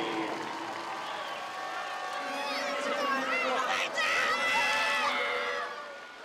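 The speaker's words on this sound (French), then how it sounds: "Ladies and gentlemen, a good round of applause for J.R. Selski." Crowd applause and cheering at a short track speed skating event welcome skater J.R. Selski, a dense wash of clapping mixed with shouts and whistles, with voices over it.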